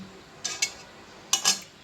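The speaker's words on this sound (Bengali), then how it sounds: "কড়াই বসিয়ে দিয়েছি, কড়াই গরম হয়ে গেছে" Metal wok (kadai) set down on a stove: two pairs of bright metallic clinks and scrapes, close and fairly quiet, over a low kitchen background.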